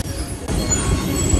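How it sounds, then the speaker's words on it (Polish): A metro train rolls through an underground station, its steady broad rumble loud and close with a faint high squeal riding over it, continuous for the whole moment. "pociąg."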